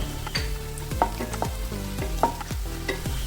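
Cashews and raisins frying in ghee in a pan for payasam, a constant sizzle punctuated by regular scraping stirs of a spoon against the pan, close and without speech.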